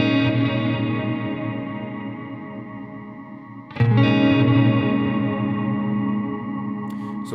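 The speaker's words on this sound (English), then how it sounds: "so I have a lot of spread and a lot of repeats so I can do my swells" Electric guitar volume swells through a Strymon Volante ping pong delay set with wide stereo spread and many repeats, a sustained washy drone with layered echoes that fades, then a fresh loud swell blooms near the middle and rings on.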